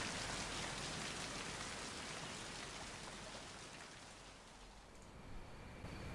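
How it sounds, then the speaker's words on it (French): Steady rain pours down in the video game Mind: Path to Thalamus, a dense, even hiss of drops on surfaces that fills the whole stretch and eases slightly near the end, with no talking. "Ah bah c'est ça, la pluie, je crois."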